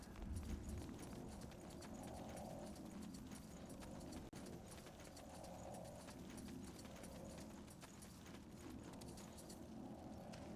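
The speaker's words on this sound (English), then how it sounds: "Footsteps." Footsteps from the SpellForce 3 video game, a steady run of hoof-like clip-clop treads that go on through the whole stretch at an even, moderate loudness.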